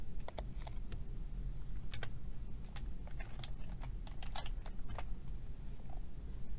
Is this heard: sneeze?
no